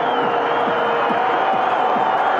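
A football stadium crowd roars in celebration after a goal in a Rostov versus Krylya Sovetov match, a loud, sustained wall of cheering and whoops with no break.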